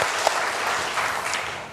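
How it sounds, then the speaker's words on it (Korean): A church congregation claps for one another in a brief, steady burst of applause from many hands, with a faint voice briefly audible underneath. "네, 우리 서로에게 박수하겠습니다"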